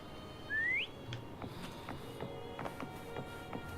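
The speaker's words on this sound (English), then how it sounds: "Try whistling." A single short rising whistle sounds in the video game Wuthering Waves, a clear upward-sliding tone, followed by light tapping footsteps and faint game ambience.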